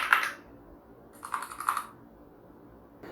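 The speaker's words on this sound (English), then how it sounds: "Now let's have a listen to what this Keychron Reds sound like on the K2." Typing on a Keychron K2 mechanical keyboard with red switches comes through as short, soft clusters of keystroke clacks separated by silent pauses, fairly quiet and close.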